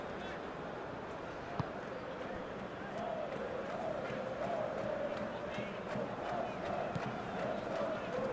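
Stadium crowd in a soccer video game of a 2. Bundesliga match, SV Darmstadt 98 against FC Schalke 04, roaring as a steady, dense wash of cheering that swells slightly midway, with a commentator talking over it.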